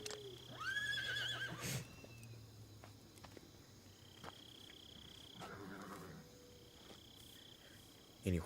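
In the Metal Gear Solid 3 video game, a horse gives a clear whinnying neigh near the start, set against a faint steady chorus of crickets and insects, with scattered soft thuds and a sharp noise at the end.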